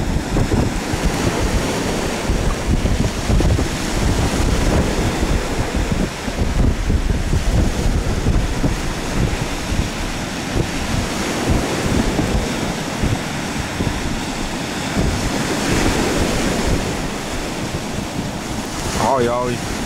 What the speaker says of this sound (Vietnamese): Sóng nó đẩy à.